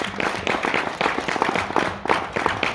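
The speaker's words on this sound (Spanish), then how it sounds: "Si puede dar un aplauso al Señor, déselo" A church congregation claps in a quick, uneven rhythm during a service, the clapping fairly close with some voices mixed in.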